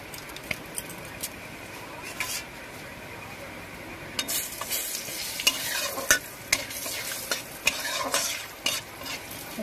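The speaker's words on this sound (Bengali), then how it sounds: "আমাদের তেল গরম হয়ে গিয়েছে। আমি প্রথমেই ফোড়নে তেজপাতা আর একটু জিরে দিয়ে দিচ্ছি।" Bay leaf and cumin sizzling in hot oil, a faint crackle that flares into a brighter sizzle, with repeated clicks and scrapes of stirring.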